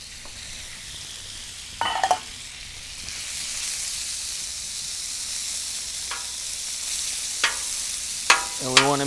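Chunks of thinly sliced skirt steak frying in oil on a hot surface, giving a steady bright sizzle throughout with a few sharp clinks and scrapes as the meat is moved around.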